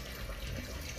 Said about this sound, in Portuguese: vamos botar a água, cobrir a carne, né? Pode botar a água até cobrir aí